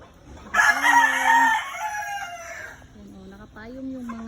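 A rooster crows loudly up close, followed by softer clucking and short calls from chickens.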